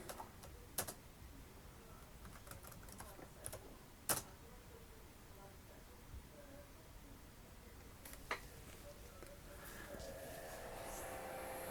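Typing on the keyboard of an ASUS L3500TP Pentium 4 laptop, irregular soft key clicks with occasional sharper taps over a steady faint hum, nearby and quiet, no talking.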